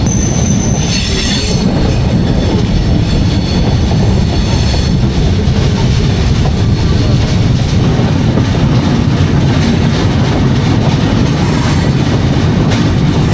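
Jahanabad Express passenger train running at night from Dhaka toward Khulna, a loud continuous rumble of rolling wagons with metallic wheel squeal and faint clickety-clack throughout, no voices.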